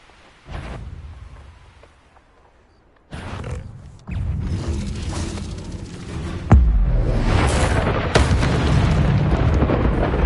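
A Bombarda explosion spell cast in the Hogwarts Legacy video game, heard as several loud booming blasts that build in force, the heaviest landing near the end amid rumbling debris.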